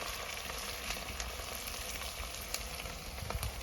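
Capsicum and onions sizzling in hot oil in a home kitchen, a dense steady frying hiss with scattered small pops and crackles, close and continuous, no voices.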